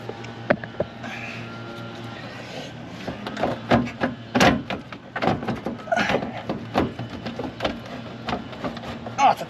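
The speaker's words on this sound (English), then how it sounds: "let's try to remove this factory airbox" Plastic clunks, scrapes and knocks sound as the factory airbox is worked loose from an Alfa Romeo 4C, irregular close handling noises with a few sharper bumps.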